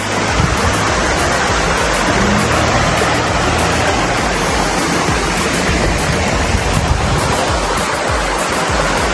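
Loud, continuous rushing water of a running stream beside a national road in Buenavista, Quezon, fills the scene without pause, a dense steady roar like a fast stream or small cascade close by.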